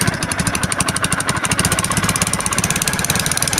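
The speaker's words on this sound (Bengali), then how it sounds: "আর শেষবারের মতন স্টার্ট দিয়ে দেখাই। ওই শব্দটা আসতেছে, সিলিন্ডার ভালো মতন লাগানো হয়নি।" Apache RTR 2V motorcycle engine idling after a big bore cylinder rebuild, with the cylinder not seated properly; a steady, close, rapid mechanical chugging with a faint knocking ticking through it, running alone without talk.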